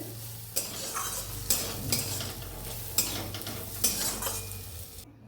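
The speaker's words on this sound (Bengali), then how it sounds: "দেখো রসুন কুচনো দিলাম, দিয়ে পরে ফের ফ্রাই করে দিলাম একটু।" Chopped garlic sizzles and fries in a pan, a steady hiss with periodic sharp scrapes and clinks of a utensil stirring against the pan, close and fairly loud with no talking.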